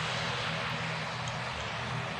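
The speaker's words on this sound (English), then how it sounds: "This is only a small prop plane. The name is right there, an Atr-72." Steady drone of an ATR-72 turboprop engine in the Roblox flight game PTFS, a dense, continuous propeller roar at constant pitch with no voices over it.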